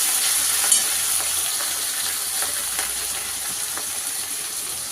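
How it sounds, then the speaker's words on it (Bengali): Chili powder, Kashmiri chili, cumin, coriander and turmeric are stir-fried in hot oil for a chicken dish, giving a loud, continuous sizzle close to the microphone with faint scraping from stirring and no talking. "লঙ্কা গুঁড়ো, কাশ্মীরি লঙ্কা, জিরে, ধনে গুঁড়ো আর হলুদ গুঁড়ো, এগুলো এবারে দিয়ে দেবো। দিয়ে মশলাটা কষে নেব।"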